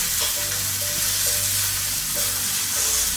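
Steak frying in a hot pan, a loud, steady sizzle and crackle close up, with occasional scraping or shifting sounds in the pan and no talking.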